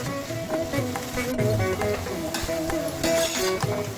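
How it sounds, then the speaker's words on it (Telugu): Bitter gourd pieces deep frying in hot oil for kakarakaya pickle, giving a steady sizzling crackle with some clatter of stirring throughout. "బాగా కాగిన నూనెలో వేసి డీప్ ఫ్రై చేసుకోవాలి"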